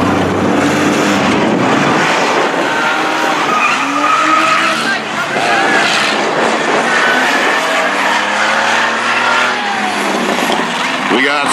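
Bomber race cars run laps at Thunder Valley Speedway in a bumper race, engines roaring and revving loudly as they pass, with tires skidding and a commentator talking over the noise throughout.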